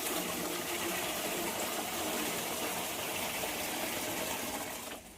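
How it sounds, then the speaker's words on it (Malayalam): A steady rush of water, mixed with rubber latex, pours out continuously for several seconds, loud and close, then tapers off at the end. "വെള്ളമായിരിക്കും ഒഴിക്കുകയാണ്"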